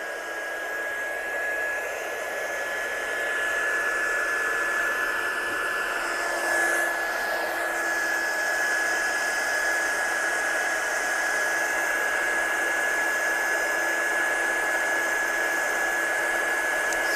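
A heat tool steadily blows its hot-air whir while heat-setting gold embossing powder, close and constant from start to finish with a faint high whine.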